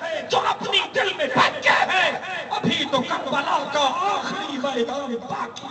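A rally crowd chants a religious slogan in unison, loud massed voices rising and falling in shouted waves.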